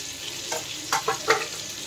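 Tomatoes go into a pan of frying potatoes and pointed gourd, a soft steady sizzle lifted by a few brief hissing bursts as pieces land and are stirred.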